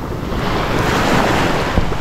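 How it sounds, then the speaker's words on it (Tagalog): Surf washing onto a simple, scenic seashore at low tide, a steady broadband roar of breaking waves with wind buffeting the microphone, continuous and fairly loud with no voices. "Nakarating na naman tayo sa tabing dagat at nakapaglaro sa tubig."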